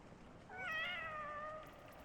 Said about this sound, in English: There is a cat in this room.